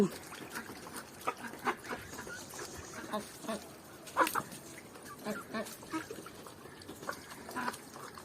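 Native chickens in a home coop give faint, scattered clucks and short calls over a soft background, with occasional voices in the distance.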